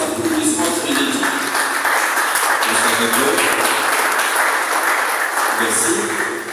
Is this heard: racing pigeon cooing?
no